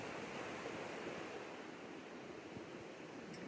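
Ocean waves wash steadily onto a beach in a soft, continuous surf roar, fairly faint and without distinct breaks, with a little wind noise mixed in.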